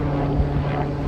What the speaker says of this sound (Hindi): ओ जहाज हेलीकॉप्टर नज़र आ रहा है